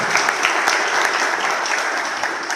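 A dense round of applause from an audience honouring a team at a pilgrimage group gathering, loud and continuous, with no voices over it.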